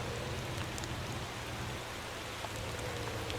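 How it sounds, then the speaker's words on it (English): Steady rain falling in the Motor Town driving game, a constant even wash of patter with no talk over it. "The rain is not helping the situation out."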